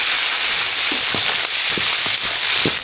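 Mustard seeds, curry leaves and green chillies fry in hot oil with a close, constant crackling sizzle broken by small popping bursts, and no voices.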